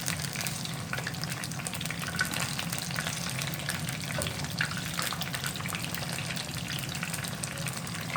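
Chicken 65 pieces coated in cornflour and rice flour fry in hot oil, producing a dense, continuous bubbling sizzle at a steady level, close up and with no voices.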